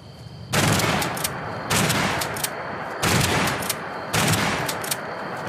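Shotgun blasts boom in Fallout 76, four loud, broad bursts about a second apart, each trailing into a sustained roar before the next.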